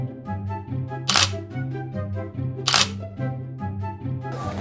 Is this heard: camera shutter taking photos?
yes